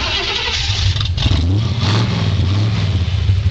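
A 327 V8 in a 1926 Ford pickup hot rod revs loudly up close, its deep rumble climbing and falling through several throttle blips before settling back toward a steady idle.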